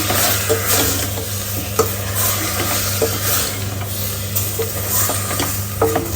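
Spices and coriander powder stirred with a spoon through chicken gravy in a pan, a constant frying sizzle under intermittent scraping and clinking strokes, close and fairly loud with no talking.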